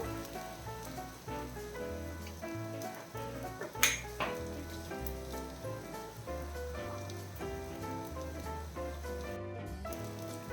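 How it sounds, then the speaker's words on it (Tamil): Shallot and curd gravy is stirred in a pan off the flame: a soft, continuous sizzle with a single sharp utensil clink near the middle, under steady background music. "இப்போ நல்லா கிளறிடலாம்"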